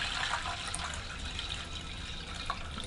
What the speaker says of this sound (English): I'm gonna cover them with some warm filtered water here